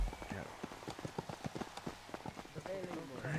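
Horse hooves clip-clop in a steady, brisk rhythm in the GTA RP video game, close and clear throughout, with a person talking over the hoofbeats.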